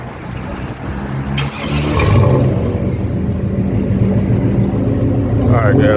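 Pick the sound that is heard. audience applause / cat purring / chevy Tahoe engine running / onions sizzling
chevy Tahoe engine running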